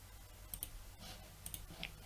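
Computer mouse clicks while working in Inkscape, a few faint, sharp ticks in a quiet room, including a quick double click, with no talking.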